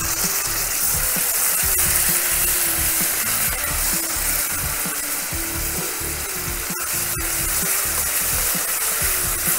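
Diced tomatoes sizzle and fry steadily in a hot pan for a wedding-style paneer matar gravy, a continuous close crackling hiss with faint stirring scrapes and no talking.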